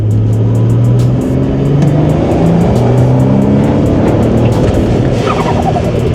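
BMW 335i E90 with the N55 engine, freshly flashed with a new tune and misfiring, runs loud and steady with a rough, uneven drone and shifting engine tones throughout.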